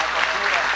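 An audience breaks into dense, steady applause, a brief burst of many hands clapping together.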